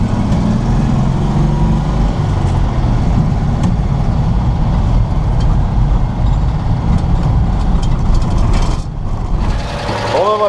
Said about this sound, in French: Bon ben voilà, ça tient le ralenti.